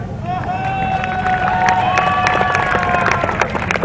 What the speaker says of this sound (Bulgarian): Ай, за пляскаме!